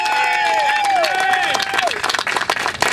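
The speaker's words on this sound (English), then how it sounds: "Let's keep that round of applause going for Anne-Marie." Audience giving a round of applause at an event about health care for 9/11 rescue workers, a dense crowd clapping that swells and grows choppier near the end, with no clear voices.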